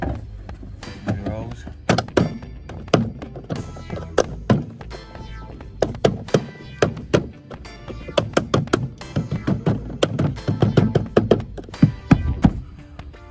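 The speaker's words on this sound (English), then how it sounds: "Make sure you bang around the whole edge so make sure all your clips are back in." Trim panel edge on a Mini Cooper S R53 being banged to seat its clips, a close series of dull thunks and knocks in an irregular rhythm around the panel.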